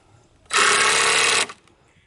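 A power drill drives a screw into a scrap wood bench, one loud steady whir lasting about a second, close up with no talk.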